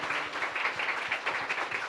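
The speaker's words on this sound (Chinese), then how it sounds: "掌声" Congregation applause at a Christmas church worship service: a steady patter of many hands clapping, moderately loud and sustained without a break.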